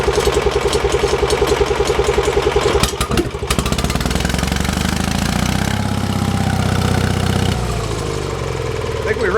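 A small gasoline engine sputters and clatters, then fires and runs unevenly at a steady mid-pitched idle after the gas is pumped, loud and close, with some brief irregular knocks.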